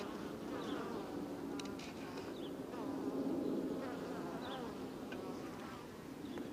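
Honeybees buzz around the entrance of a backyard beehive in July, a steady, dense hum of many wings with individual bees zipping close by now and then.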